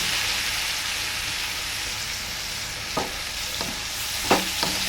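Ivy gourd curry frying in a pan, a steady soft sizzle running throughout with a few brief stirring clinks and scrapes near the end.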